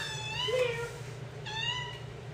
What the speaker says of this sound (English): Meow, meow, meow, meow, meow, meow, meow.